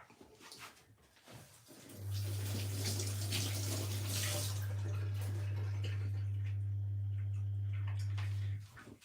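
A pumpkin is washed under a running kitchen tap, a steady rushing stream starting after a short pause and flowing evenly for several seconds before cutting off abruptly, with a low hum beneath.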